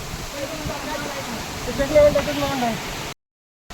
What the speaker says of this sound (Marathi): आणि इकडे हा छोटासा धबधबा.